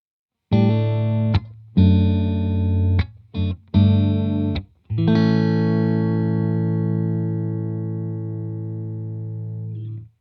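A Stratocaster in the out-of-phase in-between pickup position sounds a thin, hollow tone, with several loud strummed chords cut off by brief gaps, then one long chord ringing out and slowly fading.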